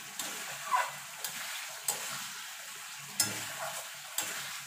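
Ridge gourd in poppy seed paste cooks in a pan over low to medium heat, with a soft steady sizzle and a few distinct scrapes of stirring spaced a second or so apart, close by with no talking.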